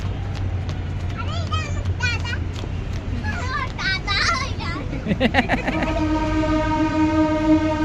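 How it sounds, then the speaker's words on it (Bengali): A train rumbles past while a long, steady whistle blares near the end; children's voices chatter over the rolling noise. "ট্রেন যাচ্ছে হুইসেল দিয়ে, সবাই সাবধান।"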